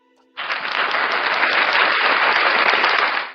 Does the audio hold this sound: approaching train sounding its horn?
no